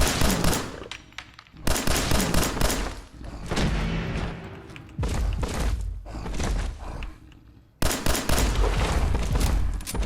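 Bursts of gunfire from the video game Fallout 4, loud rapid shots in several clusters separated by brief pauses, with heavy thumps and booms mixed in.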